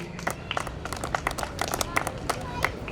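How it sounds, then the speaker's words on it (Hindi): Scattered hand clapping from a small crowd at a Dr. Ambedkar Jayanti celebration in Sarita Vihar, applauding a child, steady irregular claps mixed with an announcer's voice and background chatter. "तालियां इस बच्ची के लिए, इसकी स्माइल के लिए"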